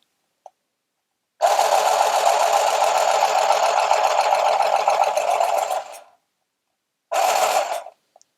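A Handy Stitch handheld sewing machine stitches fabric with a loud, close mechanical buzz running about four and a half seconds, then stopping before a second short burst.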